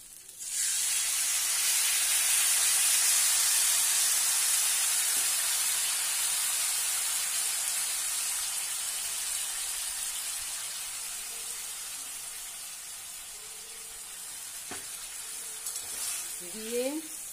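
Tamarind water poured into a hot pan with fried spices, taro and potato, bursting into a loud hissing sizzle that slowly eases over the following seconds, with a few stirring scrapes near the end.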